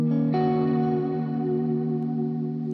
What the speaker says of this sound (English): It's gonna be the number 7 modulation reverb.